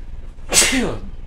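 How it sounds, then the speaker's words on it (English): A commentator calling a baseball video game sneezes once, close and sudden: a sharp, breathy burst that trails off into a voiced exhale. "I could feel that sneeze coming on, couldn't fight it off."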